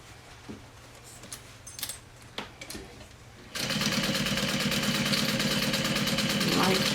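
A few quiet clicks and handling noises, then a sewing machine starts up and topstitches a backpack steadily in a fast, even rapid-fire rhythm.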